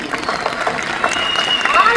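Audience applause at a live Marathi stage play, dense close clapping from a crowd filling the whole moment, with a presenter's voice talking over it.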